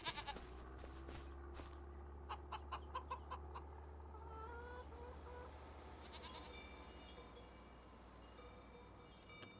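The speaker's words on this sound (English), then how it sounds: "We have 7 chickens in here." Chickens cluck in a farm pen in the video game Farming Simulator 25, a faint, intermittent series of short calls over a low ambient hum, with no talk.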